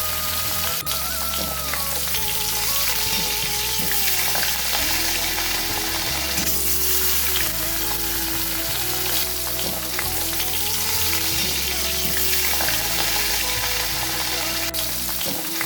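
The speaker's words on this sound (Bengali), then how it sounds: "এবার আমি মাছের বলগুলোকে ব্যাটারে ডুবিয়ে এক এক করে গরম তেলে ছেড়ে দেব।" Batter-coated fish balls dropped into hot oil in a kadai sizzle and crackle steadily throughout, a dense close frying hiss with occasional stirring.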